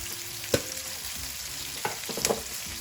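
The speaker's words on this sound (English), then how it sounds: "While the onions are sweating" Onions sweat over low heat in a pan with a pinch of salt, a soft continuous sizzle punctuated by a few sharp utensil clicks and scrapes, close and fairly quiet.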